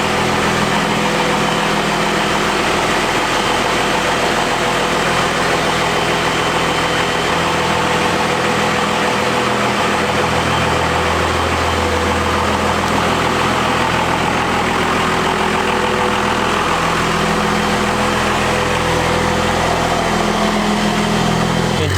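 A stock Cummins diesel truck idles loudly near a barn, a heavy, continuous low rumble with steady vibration that shifts slightly in pitch partway through as the truck is pulled out.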